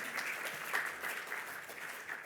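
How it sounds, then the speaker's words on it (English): A quiet, steady round of applause from a mosque audience in Melbourne, many hands clapping together at an even level without any talk. "Round of applause, please, for Project Quran."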